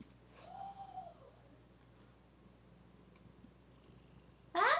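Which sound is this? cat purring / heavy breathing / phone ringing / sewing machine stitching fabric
cat purring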